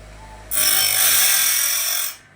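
A sawmill band blade tooth being resharpened with a grinder, a single loud, steady high-pitched grinding hiss lasting about a second and a half before stopping, no speech.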